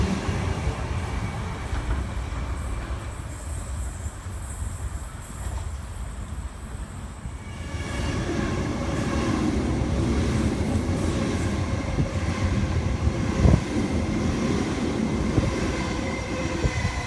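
A Sydney Trains A-set city service runs past the platform at Bexley North with a loud, steady rumble of wheels on rails that swells partway through and carries a brief squeal, with no voices.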